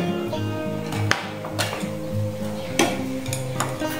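Spring roll filling is mixed by hand with seasoning, a steady wet squelching and stirring with recurring soft slaps and clicks, close and continuous.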